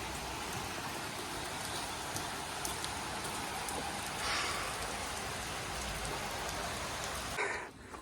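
Steady heavy rain pours down for the whole stretch, a dense continuous hiss with no voices, easing slightly just before the end.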